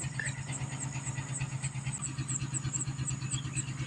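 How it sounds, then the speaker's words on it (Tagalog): A water pump's engine runs steadily at a duck farm, a low rhythmic chug that stays even and fairly quiet at a moderate distance with a faint high tone above it. "napaandar na ng kapatid ko yung makina"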